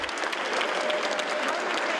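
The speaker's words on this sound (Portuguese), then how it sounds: "A recepção foi sob aplausos" Steady applause greets a woman arriving at a reception, dense clapping from a crowd heard fairly faint and even throughout, with no voices over it.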